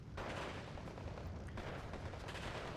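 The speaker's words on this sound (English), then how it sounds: "60 mil mortar kills off a CC" Faint, distant 60 mm mortar fire from the strategy game Steel Division 2 thuds in a low, continuous rumble, with a few muffled bursts that swell and fade.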